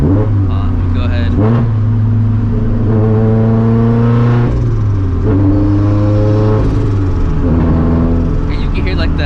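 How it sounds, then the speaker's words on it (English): A turbocharged Scion FR-S at over 350 wheel horsepower accelerates hard through several gears, its engine tone climbing and dropping at each shift, with loud intake whoosh throughout, recorded from inside the car. "And you can hear like the intake a lot louder now."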